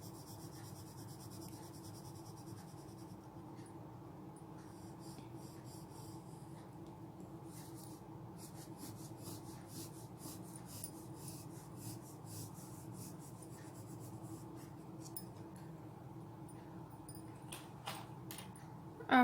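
A pencil shades on paper with steady, even pressure, giving a quiet, continuous scratchy rubbing that runs throughout at low level, close and without talk.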